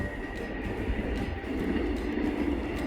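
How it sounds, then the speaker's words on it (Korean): A train passes near a large rural house in Anin-ri, Sangdong-myeon, Miryang, a steady, loud rolling rumble with faint rhythmic wheel clatter that swells slightly toward the end. "저 앞으로 기차가 지나가고 있는데 기차가 지나갈 때는 소음이 좀 있습니다."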